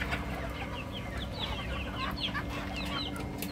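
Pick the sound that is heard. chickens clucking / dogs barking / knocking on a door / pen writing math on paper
chickens clucking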